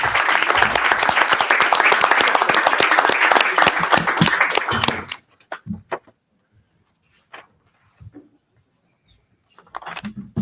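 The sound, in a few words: audience applause for presenting team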